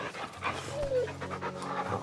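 An in-game dog pants in short, steady breaths up close in the Final Fantasy XVI video game. The panting continues without a break for about two seconds.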